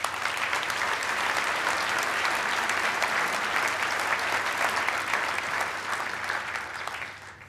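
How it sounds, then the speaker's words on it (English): Sustained applause fills a banquet hall at a business hall of fame ceremony, a steady, even roar of many hands clapping that holds for several seconds and eases slightly at the end. "Please give them a round of applause."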